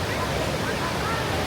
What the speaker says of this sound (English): The big waterfalls over here